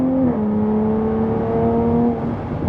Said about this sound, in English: the V6 sounds absolutely insane